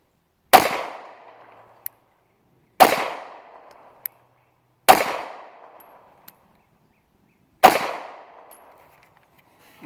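Four sharp, loud 9mm shots from a Springfield Hellcat pistol, spaced about two seconds apart, each with a brief ringing tail and a small metallic click between shots.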